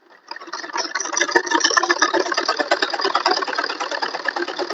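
Sewing machine stitching salwar fabric, a fast, steady, close mechanical whirr and rattle of needle strokes running continuously after a brief start, with no talk.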